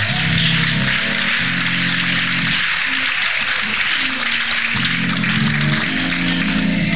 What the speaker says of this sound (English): Why don't we just give them a hand clap of praise?